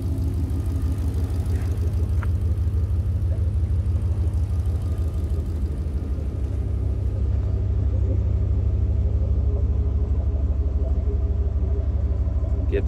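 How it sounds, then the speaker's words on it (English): A supercharged 2007 Mustang GT, Kenne Bell blown and making 540 horsepower, idles with its Gibson exhaust in a steady, close, loud low rumble that holds even throughout. "Gibson exhaust sounds so good."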